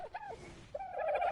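Birds squawking in the game Ark, two short warbling, gobble-like calls, fairly faint, with a brief pause between them.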